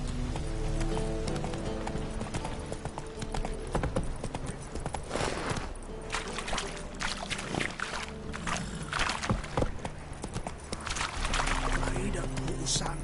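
A horse galloping in the video game Witcher 3, rapid rhythmic hoofbeats thudding steadily under layered game ambience, with occasional voices talking.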